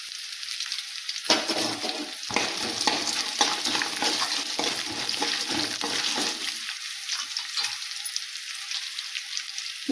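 Mango rice (chitranna) ingredients stirred and fried in a pan, with dense sizzling that starts abruptly and continues, broken by repeated scraping stirs, close and steady, with no talking.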